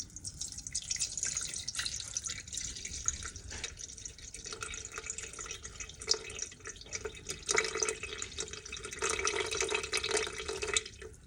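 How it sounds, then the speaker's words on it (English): Room-temperature to warm water, 365 milliliters, poured into sourdough starter for a toasted sesame loaf, giving a steady close trickle and splashing with small drips that runs throughout. "So I'm going to add 365 milliliters of warm water."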